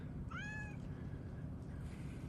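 A cat gives a single short, rising meow over a low background rumble, fairly faint, with no talking.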